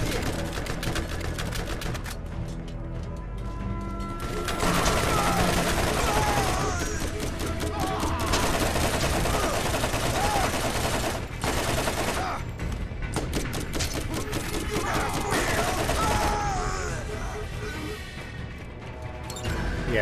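Rapid machine gun fire from a soldier's weapon in the video game Borderlands, long bursts of loud, crackling automatic shots against a group of enemies, with short pauses between volleys and explosions mixed in.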